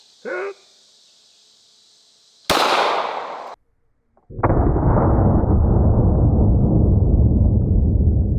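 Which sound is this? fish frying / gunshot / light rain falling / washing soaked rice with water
gunshot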